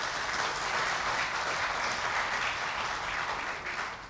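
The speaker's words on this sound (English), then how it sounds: "Let's clap for them." An audience claps and applauds at a Ghana football event, a dense, steady wash of many hands close by that fills the whole stretch and tapers off slightly at the end.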